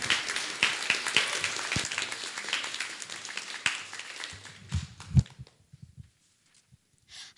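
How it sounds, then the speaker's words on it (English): Audience applause at a poetry contest: dense clapping from a crowd that thins out and fades to near silence, with a few stray claps at the end. "keep that round of applause going"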